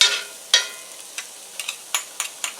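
Onions being stirred and fried in a pan for Northern Italian lemon chicken: a soft background sizzle broken by a sharp scrape of the spoon, then a series of quick, lighter stirring clicks and scrapes at an uneven rhythm, close by and alone.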